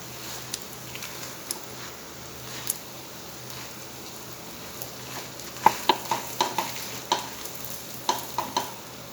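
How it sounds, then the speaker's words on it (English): Goan baby prawn potato chops frying in a pan, a steady close sizzle with a burst of light crackling pops toward the end, no talking. "We'll fry them till both the sides are light golden brown in color."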